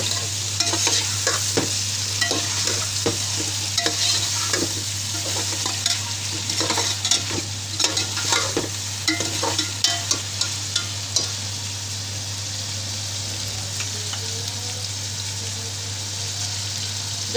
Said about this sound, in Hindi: चिकन की भुनाई कर लेंगे अच्छी तरह